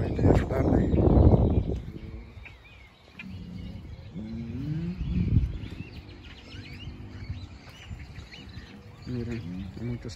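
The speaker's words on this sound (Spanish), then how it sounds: "Miren, hay muchos pajaritos acá," Birds chirping in a zoo aviary, scattered small calls and twitters at moderate distance, with someone talking over the opening moments and background murmur.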